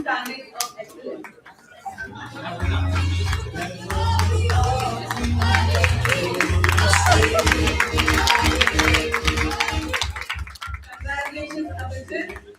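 Audience applause at an awards ceremony, a steady wash of clapping that swells and holds for several seconds before thinning out, with a low background hum running underneath.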